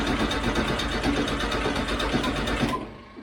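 Engine of an old, long-forgotten show car cranking over on the starter, a steady fast rhythmic churning that runs loud and close for nearly three seconds before cutting off, without any voices.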